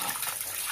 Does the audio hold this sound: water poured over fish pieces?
yes